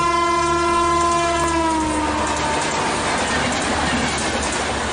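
A train horn blares loudly and steadily, then fades into the rumbling roar of the train rushing into a station at speed, with rhythmic rattling of the carriages.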